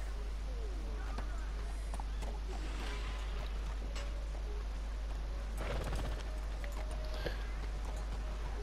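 A horse's hooves clip-clop at a steady walking rhythm in the open-world western game Red Dead Redemption 2, close and clear beneath intermittent talking.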